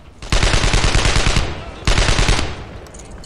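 Sustained automatic fire from the player's gun in the World War II shooter Brothers in Arms: Earned in Blood, two loud rapid bursts, the first about a second long and the second shorter, with a brief pause between them.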